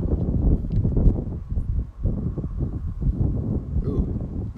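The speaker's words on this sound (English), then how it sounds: "Ooh, this wind is really helping us out, kind of." Wind buffets a microphone outdoors at night beside a 10-inch Dobsonian telescope, a steady low rumbling roar that runs loud and close through the whole stretch, with only faint hints of voice underneath.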